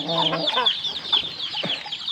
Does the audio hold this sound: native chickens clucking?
yes